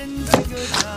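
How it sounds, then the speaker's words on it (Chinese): A knife chopping pork intestines on a board in a Mongolian household kitchen: three quick, loud, close chops within a second. "再切点肥肠。"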